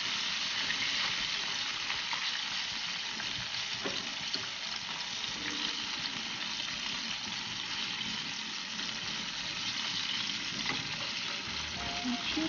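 Chicken pieces fry steadily in a pan for a sweet and sour tofu dish, giving a continuous dense crackling sizzle at even loudness throughout, with occasional louder pops and no talking.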